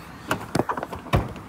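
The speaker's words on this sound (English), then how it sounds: "Oh, excuse me, I've locked the door." Door of a Hobby Vantana K60 motorhome being locked: a few close clicks and knocks of the latch mechanism, ending in a firmer thud, with no talk.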